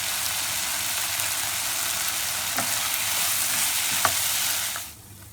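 Onion, garlic and chopped tomato sauté in a pan for a Chettinad ladies finger mandi, giving a steady, fairly close frying hiss with a few brief sharper crackles, with no voices over it.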